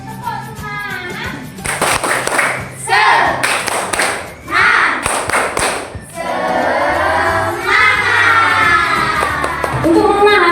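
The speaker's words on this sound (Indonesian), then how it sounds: "Mari kita berikan dulu. Tepuk semangat." A class of children performs a rhythmic clapping chant in a classroom, bursts of patterned claps alternating with chanting voices and thumps, ending in a sung cheer.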